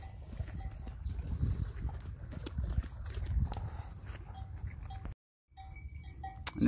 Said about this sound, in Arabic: هاي وسم غنم حمد العمر